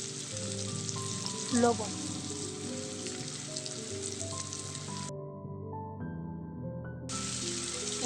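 Chopped onion hits hot soybean oil, a loud, continuous close-up crackling sizzle that briefly flares, and a voice says one short word over the frying.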